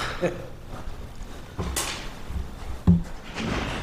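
A sticking house door is tugged and rattled, with a soft bump, a brief scraping swish and a sharper knock as it finally jerks open, close and clear.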